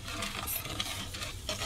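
Sugar syrup for gulab jamun is stirred in a pan over a high flame, producing a soft bubbling sizzle with light scraping strokes, close and quiet, without voices.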